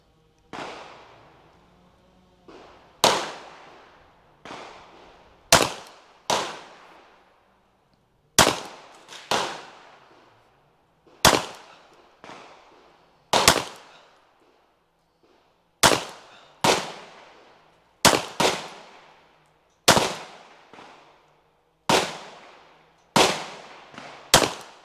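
LFA Apollo 11 air gun fired at a 20-yard target, about sixteen sharp loud cracks spaced a second or two apart, each decaying quickly, with quiet handling between shots.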